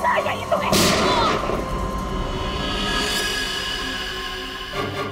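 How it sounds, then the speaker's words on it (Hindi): Gunshots ring out in a tense scene, a sharp loud blast near the start followed by a second fainter crack, with echoing decay and a brief thump at the end. "उसके बाद दूसरी गोली चली"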